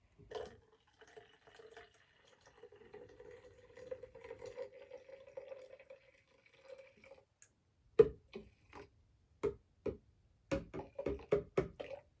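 Water trickles and pours into a glitter-filled galaxy jar, a thin steady stream giving way to scattered drips and small splashes, close and fairly quiet.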